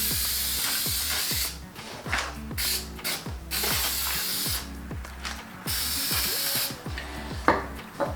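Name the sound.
spray adhesive being sprayed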